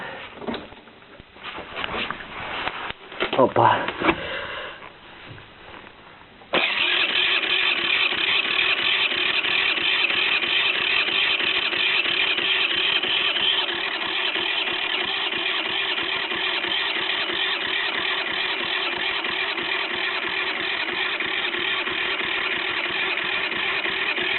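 A scooter's electric starter cranks without the engine catching: a few seconds of uneven, stuttering bursts, then a steady, loud, continuous whirring drone that runs to the end.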